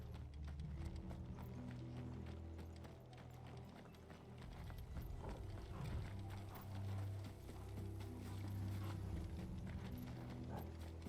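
Steady clip-clop of horse hooves at a brisk pace over a continuous low rumble, with a few faint mechanical noises mixed in, in the video game Final Fantasy XVI.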